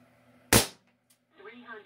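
A single sharp crack from an ASG Dan Wesson .357 pellet pistol, close and loud with a fast decay, followed moments later by someone speaking.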